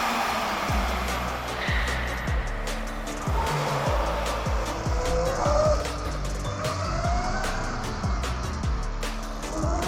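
Electric supermoto motorcycle braking on a karting track, a close continuous rattling rumble with rising whine and tire-squeal tones, without spoken words.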